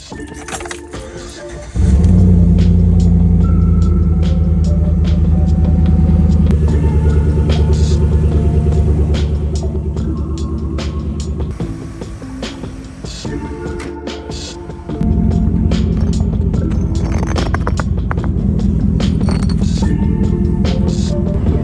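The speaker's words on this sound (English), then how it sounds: "start the truck, let it run for a little bit" A truck engine cranks and starts after a light jingle of keys, then settles into a loud, steady idle with a deep rumble, its note shifting partway through.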